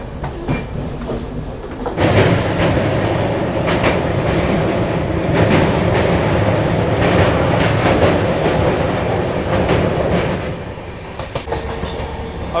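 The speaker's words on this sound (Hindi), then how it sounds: "चल रही है शंटिंग किसी ट्रेन की।" A train shunts on the tracks at the outer approach to Mysore Junction, with a heavy rolling rumble and rhythmic wheel clatter that swells loud for several seconds before easing off.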